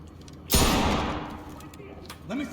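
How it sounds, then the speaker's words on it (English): A single loud gunshot cracks and rings out with a decaying echo inside a school building in the tactical shooter Ready or Not, followed by quieter background sounds and a brief voice. "Hearing gunshots."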